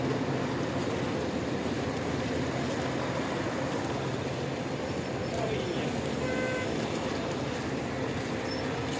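Road traffic near Makkah around Muzdalifah, a steady broad rumble of vehicles with a car passing and faint brake squeals, while people talk over it.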